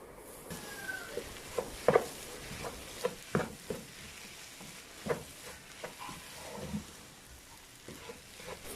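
Tomatoes are stirred into masala in a pan for Malabar-style beef curry: a spoon clanks and scrapes against the pan in irregular knocks over a soft, steady sizzle, close by and with no voices.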